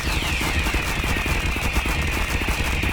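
Rapid gunfire in a Star Trek roleplay video game, a dense burst of automatic shots with a whining tone, steady and loud for a few seconds.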